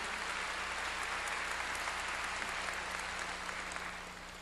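A church congregation claps during a sermon, a steady wash of applause at moderate loudness that holds evenly and tapers slightly at the close, with a low constant hum beneath.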